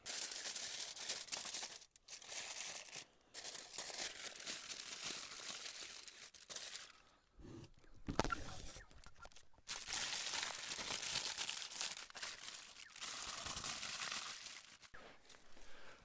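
Aluminium foil crinkles and crumples steadily as a barramundi is wrapped for cooking in the ashes, close and fairly loud with a few brief pauses.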